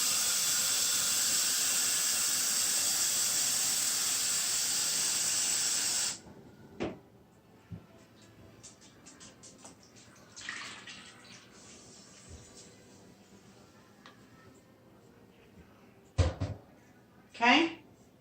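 Water pours steadily into a container of green paper pulp made from paper scraps, a loud continuous hiss for several seconds that cuts off abruptly, followed by faint sloshing and a few soft knocks.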